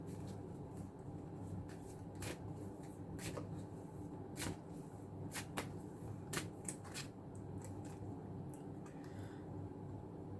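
Tarot cards are shuffled by hand in a quiet room, with repeated crisp riffling snaps and soft slides at an irregular rhythm, close and fairly faint; no talking.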